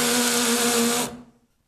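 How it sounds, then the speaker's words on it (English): A hammer drill bores into brickwork with a loud, continuous high-pitched whine and grinding buzz for about a second, then stops abruptly and the sound fades out. "Make sure you've reset the drill to hammer drill because that's what you need, a hammer drill setting to get through brickwork"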